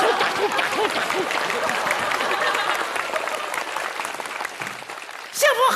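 A theatre audience at a Chinese crosstalk comedy show applauds in a steady, even patter of many hands, tapering off near the end as a brief voice cuts in.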